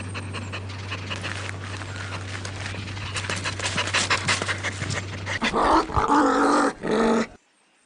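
A mother dog pants steadily and rapidly while giving birth to a litter of puppies, close and continuous, then breaks off into a few louder whining yelps near the end.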